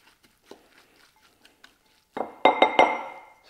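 Onions and garlic stirred together in a bowl: a quiet start, then a run of sharp clinks and scrapes of the utensil against the bowl, close and fairly loud, with no talk.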